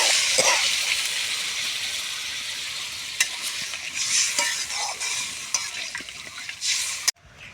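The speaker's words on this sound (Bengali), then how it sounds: "আমি এবার জল দিয়ে দিই।" Water poured onto fried spice paste bursts into a loud, steady sizzle and steamy hiss in a pot of cauliflower and potato curry, with occasional stirring clinks before the sound stops abruptly.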